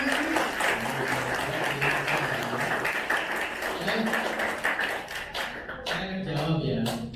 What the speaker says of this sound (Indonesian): Aplaus, tepuk tangan semuanya.